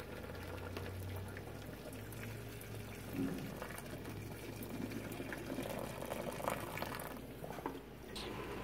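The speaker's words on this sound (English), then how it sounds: "Then you want to pour them down the strainer." Boiled noodles and their hot water are tipped from a pot into a kitchen strainer, giving a steady wet pouring and splashing rush that runs for several seconds over a low hum.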